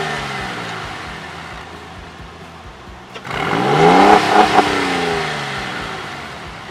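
A Porsche 911 of the 996 generation pulls away while being driven. A steady engine hum swells sharply into a loud, rising rev partway through and then holds a strong, sustained drone.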